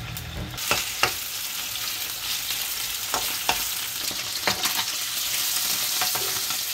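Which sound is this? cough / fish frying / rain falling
fish frying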